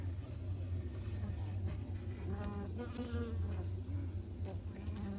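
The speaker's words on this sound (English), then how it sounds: "There appears to be quite a few bees down in there." Dense, steady buzzing of many bees close by in an open hive, a continuous droning hum with no voices.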